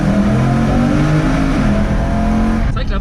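A BMW M3 E92 fitted with a Remus exhaust revs hard, its loud, rising engine roar filling the recording continuously and heard close by.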